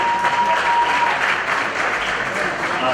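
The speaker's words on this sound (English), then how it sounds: "Let's clap for him." Continuous audience clapping at a Northern Uganda film awards gala, a thick steady patter of many hands at close range holding level for the full few seconds.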